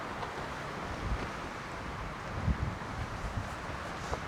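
Strong wind buffets a staked-down tent and canopy on a roadside stop in Nueva Vizcaya, a low, steady rushing roar with a few soft gusty thumps, faint and continuous with no talking.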